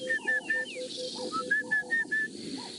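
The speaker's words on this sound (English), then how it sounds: "There is a orange-breasted bushshrike." An orange-breasted bushshrike repeats short, clear whistled notes in quick series, fairly faint and distant, with softer calls between.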